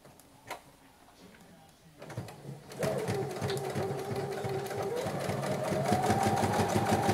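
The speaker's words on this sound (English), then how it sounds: "Now I'm going to sew around the image." A sewing machine starts up and stitches around an image on a craft tag, its fast steady mechanical whir and ticking needle building after a few soft handling sounds and staying close and continuous.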